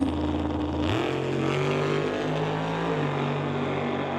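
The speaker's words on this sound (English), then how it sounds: "another wheels up launch drag race" Drag race cars launching from a pre-staged start in a limited street class, a loud continuous engine roar that jumps in pitch about a second in and holds at full power, close and steady with no talk.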